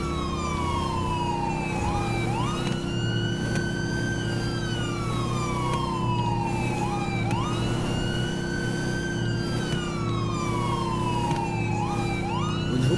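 A police car siren in the video game GTA 5 wails continuously in a loud, repeating rising-and-falling cycle roughly every four seconds, close up over a steady engine rumble, with no talking.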